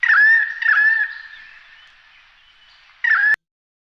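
A currawong calls in an eastern Australian forest: loud, ringing, slightly wavering notes in two quick bursts that trail into a long, fading drawn-out note, then one more abrupt call at the end.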